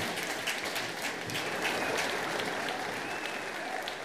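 An audience claps steadily to a Christmas song, a dense, even wash of many hands that holds at a moderate level throughout without fading.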